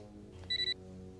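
Telephone ringing indoors in a short burst of three quick electronic trill pulses, fairly faint over a low steady hum.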